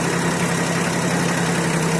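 A Solis 24 mini tractor's engine idles steadily and close by, a constant low hum with a mild vibrating rumble and no voices.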